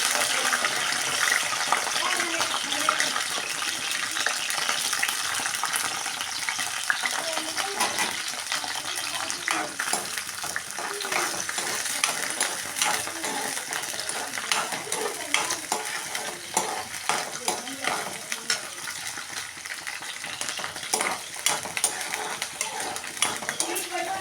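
Green chillies fry and sizzle steadily in a pan for a village-style tomato and coriander chutney, with a spoon or spatula scraping and clinking against the metal as they are stirred, close and continuous with no talking.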